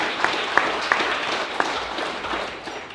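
An audience at a council campaign kickoff applauds for church members, a dense burst of many hands clapping with a few sharper individual claps standing out.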